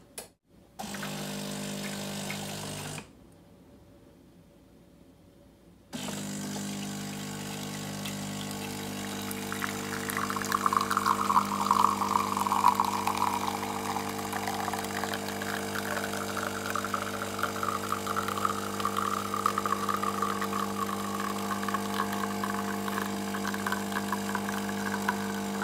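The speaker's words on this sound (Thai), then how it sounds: "แล้วก็กดแบบแก้วเดียวนะคะ" A Delonghi Magnifica S coffee machine brewing a single cup: a steady mechanical hum and pump drone, briefly cutting out, then resuming with a rising hiss of hot water flowing, close and continuous without talking.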